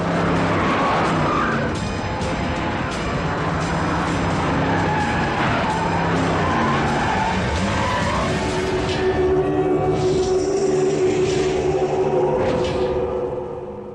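Car pulling away and skidding, a loud engine roar with screeching tyres building and fading over about fourteen seconds, heard close and without talk.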